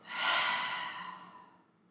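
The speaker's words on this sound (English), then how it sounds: "take a cleansing breath out your mouth" A slow cleansing breath pushed out through the mouth during a gentle beginner's yoga session, a single soft breathy exhale that swells quickly and fades over about two seconds, close and quiet.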